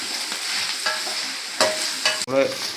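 Sliced okra is stirred in a hot pan while frying for a vendakka theeyal, giving a continuous sizzle broken by several loud, close scraping sweeps of a spatula.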